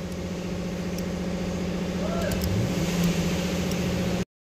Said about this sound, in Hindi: मारो सेल्फ, क्लच दबाए